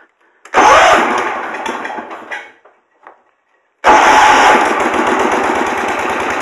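A small riding mower engine, choked, cranks and catches, roaring loudly close by, dies down briefly, then restarts and runs steadily at full throttle.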